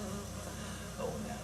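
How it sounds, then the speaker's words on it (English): Close, steady buzzing of a bee flying around outdoors, a brief continuous drone at modest level. "We got a bee buzzing around him too."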